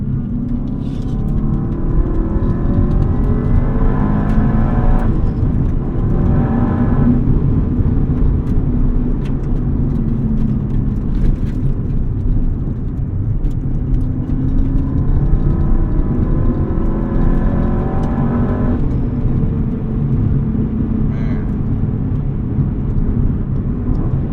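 A 2003 Subaru WRX STi S202 turbo engine pulls hard while driving, a loud, steady in-cabin drone rising in pitch through the gears, with two clear climbs in revs and gear changes between them.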